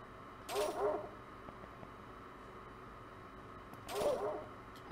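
A dog barks twice in the video game Super Mario Star Road, a few seconds apart, short sharp yips over a quiet background hum.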